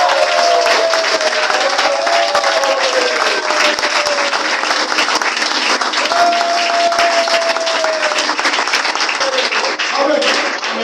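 A church congregation applauds and cheers loudly for a minister, steady dense clapping mixed with shouts and whistling-like calls throughout, with no clear speech.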